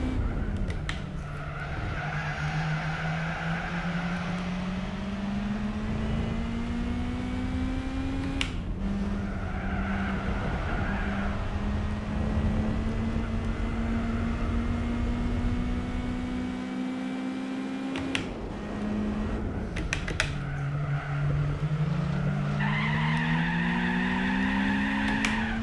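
Race car tires squeal and skid in Gran Turismo 4 over a droning engine note that climbs and drops with gear shifts. Skids flare near corners and the race runs on without any speech.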